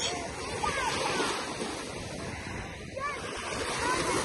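Sea surf at the seaside in Saros washes steadily onto the shore, a continuous broad rush of waves mixed with wind noise, with no clear voices over it.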